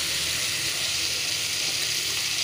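Chopped tomatoes sauté in a pan for a fish gravy, making a loud, continuous, even sizzling hiss that holds steady from start to finish with no voices.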